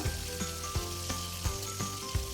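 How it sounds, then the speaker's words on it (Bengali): Hilsa fish pieces fry lightly in oil with a steady crackling sizzle, punctuated by soft regular knocks about three times a second, close and with no voices. "মাছগুলো কিন্তু খুব হালকা করে ভেজে নিতে হবে খুব বেশি ভাজলে ইলিশ মাছ কিন্তু ভালো লাগে না"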